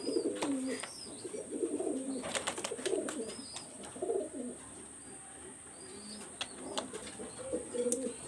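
Two top-quality pet pigeons coo softly in short repeated bursts, with thin chirps and a light flutter mixed in, fairly faint and close.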